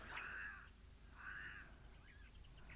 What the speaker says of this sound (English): These crows really do make quite the racket.